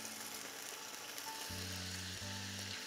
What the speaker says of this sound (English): Now I'm just going to fry the tofu in a little bit of oil